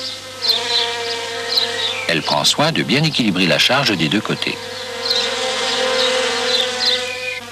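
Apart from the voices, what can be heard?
honeybee buzzing while collecting pollen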